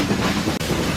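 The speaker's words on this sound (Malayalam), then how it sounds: "മേട്ടുപ്പാളയം മുതൽ കൂളൂർ വരെയാണ് ഈ നീരാവി എഞ്ചിൻ വെച്ച് ട്രെയിൻ ഓടുന്നത്." A Nilgiri mountain train hauled by a steam engine on the Mettupalayam to Coonoor line rumbles along the rails with a continuous broadband roar, brief and close.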